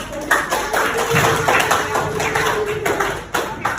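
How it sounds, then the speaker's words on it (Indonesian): Class of students clapping in an Indonesian classroom during a teaching practice lesson, uneven bursts of hand claps and taps, with a voice murmuring underneath. "Oke, kasih tepuk tangannya."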